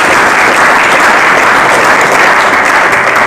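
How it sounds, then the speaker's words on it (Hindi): A church congregation breaks into loud, sustained applause, a dense steady roar of clapping filling the room from start to finish. "ताली बजाकर प्रभु की महिमा करें।"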